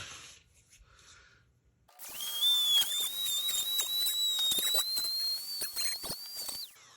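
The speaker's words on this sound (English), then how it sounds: "I'm basically just going right in the center and sanding out these posts." Quiet handling noises give way to a high-pitched whining power sander grinding plastic posts inside a Nerf Fortnite 6-SH revolver close up, running steadily for several seconds with scratchy bursts before stopping.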